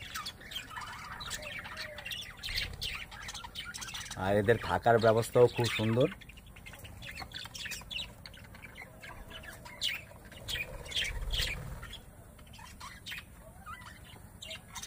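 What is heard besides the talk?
birds calling and squawking in a park aviary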